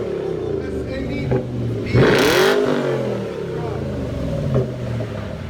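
A 2007 Volvo S80 V8 with dual exhausts and the mufflers deleted revs hard once, a loud rising and falling engine roar over idle, with people talking close by.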